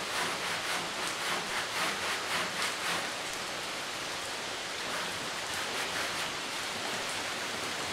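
Steady, dense rain falls outside in an unbroken loud hiss with no voices.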